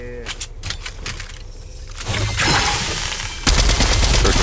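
Gunfire from a range session, a rapid series of shots from more than one weapon with voices talking under and between them, getting louder and denser toward the end.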